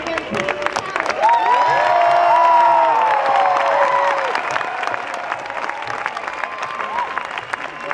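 A protest rally crowd of Occupy demonstrators bursts into loud applause with cheers and whoops, swelling and then tapering off over several seconds, with shouted voices mixed in.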